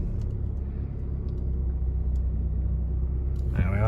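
A Honda CR-V 1.6 i-DTEC diesel with 18,325 miles creeps slowly across a car park, its low engine rumble steady and close throughout, with a brief rise in engine note near the end.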